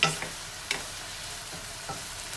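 Vegetables stir-frying in a pan for Thai holy basil chicken, a soft, fairly quiet sizzle broken by a few scattered clinks and scrapes of a spatula, with no talking.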